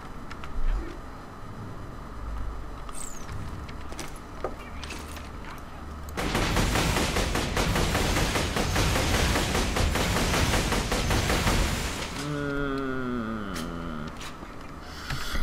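Explosive gun firing in Borderlands 2, a dense continuous burst of rapid shots and blasts lasting several seconds, loud and close, framed by quieter game sounds and electronic effects.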